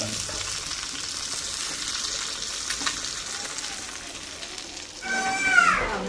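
Small fish frying in a pan of oil in a village kitchen in Alappuzha, for a ground-coconut koozhuva curry: a steady close hiss of sizzling that swells into louder, busier crackling near the end.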